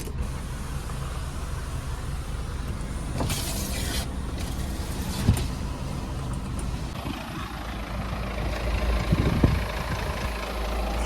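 A Peugeot 508 engine idles steadily, a low continuous rumble close by, with a few brief clanks and rustles over it.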